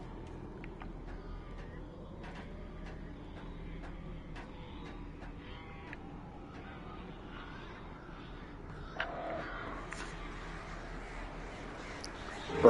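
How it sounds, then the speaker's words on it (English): Crows cawing in the horror video game Alan Wake Remastered, several scattered harsh calls over a low, murky ambient background, faint to moderate in level, with a brief louder burst near the end. "Birds."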